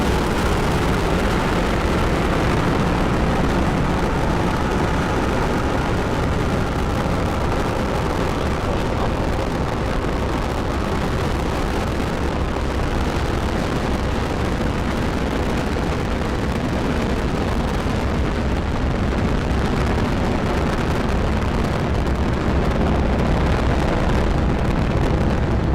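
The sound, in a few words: SpaceX Falcon 9 rocket launch roar after liftoff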